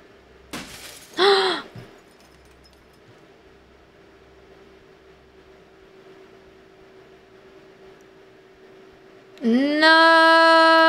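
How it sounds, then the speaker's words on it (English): A window pane smashing in the horror game Fears to Fathom, a bright crash of breaking glass that stands out against a quiet, humming room, followed near the end by a louder rising tonal sound. "I heard a window smash."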